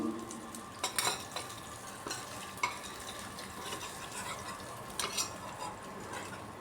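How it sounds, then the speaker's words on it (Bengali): Large stinging catfish fried in a pan of hot oil are lifted out: a close, continuous sizzle and crackle, broken by several sharp clinks and scrapes of a utensil against the pan. "ভেজে মাছগুলো এখন উঠিয়ে নিচ্ছি।"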